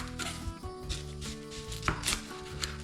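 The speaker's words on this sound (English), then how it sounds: "cut some veggies, some onions, cut them really fine" A knife chops onions and other vegetables finely on a board, a close, steady run of rapid chopping strokes with no voices.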